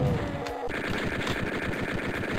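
Rapid machine-gun fire from chaingunner enemies in Doom 2, a dense, steady stream of shots running loud and continuous from start to finish with no talk over it.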